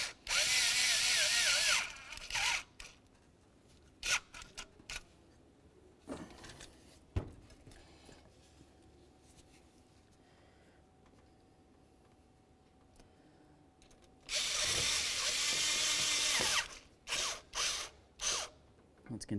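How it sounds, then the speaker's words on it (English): A power driver tightens hose clamps on a performance air intake kit in a 2001-2006 Silverado 2500 HD, with two long loud whirring bursts at the start and end and several short zips between, alone in a quiet workspace. "We're gonna start lining up each of these clamps and tightening them as well."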